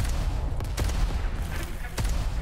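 Several grenade explosions in an arena shooter duel, a few separate dull booms and cracks spaced over a couple of seconds against steady game noise.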